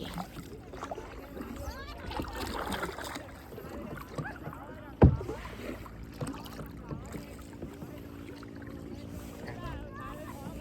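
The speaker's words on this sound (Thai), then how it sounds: "ดูเขาพายเห็นไหม ตัวไม่เอ็นเลย" Small rowboat paddled slowly across a reservoir, with steady water and wind noise, a sharp knock or splash midway, and people talking throughout.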